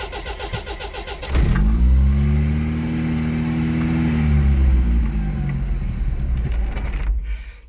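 An old Austin Princess car cranks and its engine catches after about a second, then runs roughly at a fast idle with a rising and falling hum before cutting out, close and loud.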